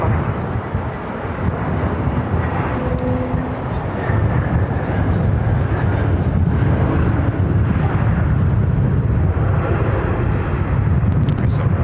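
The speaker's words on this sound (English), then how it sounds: "Cargo King, the 777 freighter, going to be taken off here on 7 right" Cargo King Boeing 777 freighter taking off from runway 7 right at LAX in extreme winds: a loud, continuous jet roar that swells and holds, with wind buffeting the microphone and a voice speaking over it.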